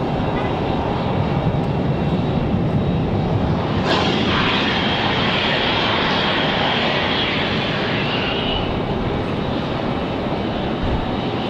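Alaska Airlines flight 572 passing at Raleigh-Durham International Airport on a breezy evening, a steady broad jet roar that swells and brightens partway through, loud and continuous with wind across the microphone.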